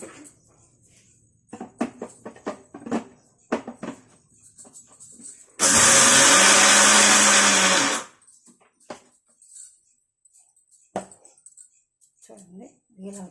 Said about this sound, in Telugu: ఇది ఇప్పుడు మిక్సీ పెట్టేసుకుందాం